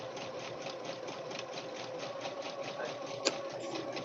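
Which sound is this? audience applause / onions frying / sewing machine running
sewing machine running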